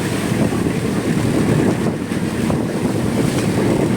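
Strong headwind roars across a small outrigger fishing boat heading home on Iligan Bay, with steady microphone buffeting and spray and waves slapping the hull, loud and continuous throughout.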